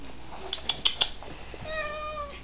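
A large domestic cat meows several times in short, close cries, followed by a longer, drawn-out wavering meow, with faint room noise and no talking.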